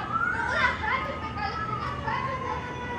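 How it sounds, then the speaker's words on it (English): A neighbor child outside in Los Angeles screams and shrieks in several high-pitched bursts, faint and distant through a room, with other children's voices chattering in the background. "I can still hear that kid screaming outside. He screams every day."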